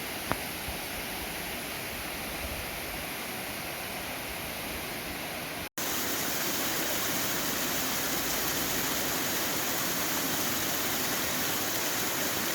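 Kalamankuthu waterfall near Munnar gives a steady, dense roar of falling water, close and constant, with a brief dropout partway through before the rush returns slightly louder. No voices are heard.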